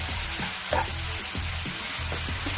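Kimchi fried rice stir-frying with oyster sauce in a pan, a bright continuous sizzle punctuated by repeated low scraping knocks of a utensil against the pan.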